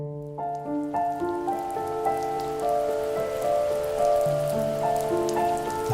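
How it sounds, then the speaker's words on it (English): Rain falls in The First Tree video game, a steady hiss of drops on surfaces beneath sustained melodic music notes, continuous and moderately loud throughout with no talking. "The rain cascaded onto the jade valley where the entrance to the tree was."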